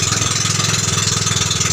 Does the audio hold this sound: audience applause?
no